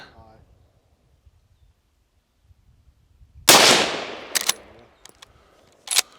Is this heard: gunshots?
yes